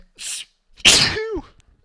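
A single loud sneeze rings out close by, preceded by a short sharp intake of breath and followed by a brief tonal squeak as it trails off.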